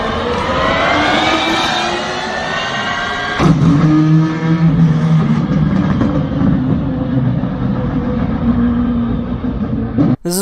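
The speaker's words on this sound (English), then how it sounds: "Here's what it sounds like to switch from an electric motor to a combustion engine in the same car." A car switches from its electric motor to its combustion engine: a high whining tone sweeps through at first, then a deeper, rougher engine drone cuts in abruptly and holds loud and close until it stops at the end.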